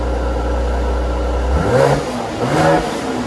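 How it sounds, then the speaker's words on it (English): Stock-exhaust bi-turbo engine of a 2020 Mercedes C43 AMG in comfort mode, heard as a steady idle that swells into two short, loud revs, each blipping up and falling back, close by with no talk. "Rev it up, yeah."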